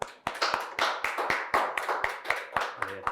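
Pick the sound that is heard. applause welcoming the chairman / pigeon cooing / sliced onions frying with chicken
applause welcoming the chairman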